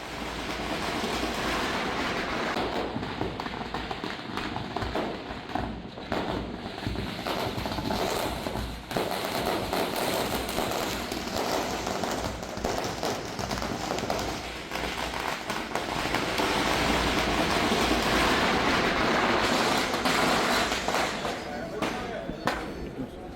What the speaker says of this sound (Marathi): फटाक्याची आतषबाजी करत अजित पवारांचं स्वागत झालं